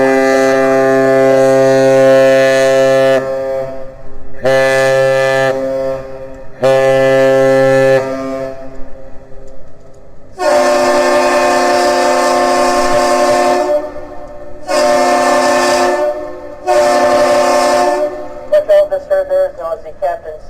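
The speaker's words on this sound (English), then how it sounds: "The ship initiates the greeting with one long blast followed by two short blasts, and the bridge responds with the same thing." A lake freighter's horn at the Duluth Ship Canal sounds the Captain's Salute, loud, steady, tonal blasts: three roughly three-second blasts, a pause, then a long blast and two shorter ones answering.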